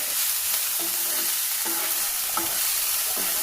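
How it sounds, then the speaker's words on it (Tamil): Vegetables with coriander and curry leaves sauté in a pan for a rice-based tiffin, giving a loud, continuous close sizzle, with a utensil scraping and stirring at regular intervals. "இது எல்லாத்தையுமே நல்லா சிம்மில் வச்சு வதக்கணும்."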